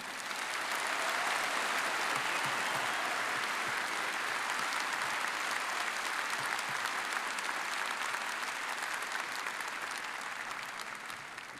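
A large audience at a university spring commencement ceremony applauds the speaker, dense steady clapping filling the hall for over ten seconds without pause.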